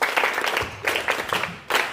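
Students at a school NSS camp clap together, producing dense bursts of applause that swell and dip in a few uneven waves.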